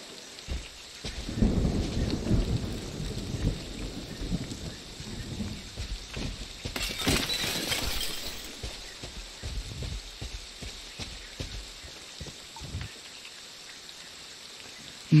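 Steady rain with rolling thunder in the Friday the 13th video game, a low rumbling peal building mid-way, a brighter crack around the middle and scattered thumps throughout over the constant hiss of rainfall.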